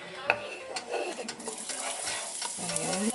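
Garlic frying in a pan for macaroni soup, a steady crackling sizzle with scraping stir strokes and a few utensil clinks against the pot, close and moderately loud, no talking.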